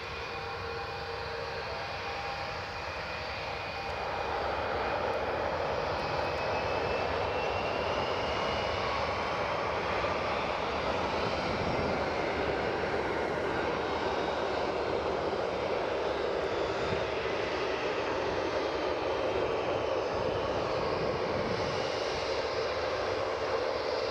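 A CRJ regional jet's engines at Newcastle Airport roar loud and steady, swelling after the first few seconds and holding a broad continuous rumble with a thin high whine.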